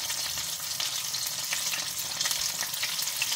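Flour-coated shrimp fry in hot oil with a dense, continuous crackling hiss, loud and close, with no voices over it.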